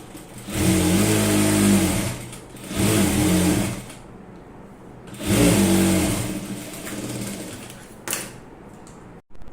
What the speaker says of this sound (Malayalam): ഒരു സൈഡും കൂടി ഒന്ന് സ്റ്റിച്ച് ചെയ്ത് കൊടുക്കുവാണ്